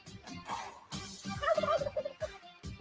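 A Tom turkey gobble effect rings out once, mid-clip, as a bright rapid warble of about a second. Low thuds and soft noise come before and after it, with no voices.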